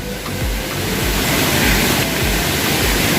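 Niventi waterfall in the Konkan during the monsoon pours in a steady, loud, broadband rush of falling water, continuous and unbroken.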